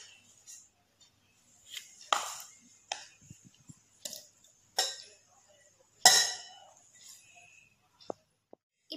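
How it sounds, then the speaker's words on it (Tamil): Cut mango pieces drop into a mixer jar with a few scattered soft thuds, clinks and scrapes, separated by quiet pauses, close and moderately loud. "இப்போ நான் கட் பண்ண மேங்கோஸை மிக்சி ஜாரில் டிரான்ஸ்ஃபர் பண்றேன்."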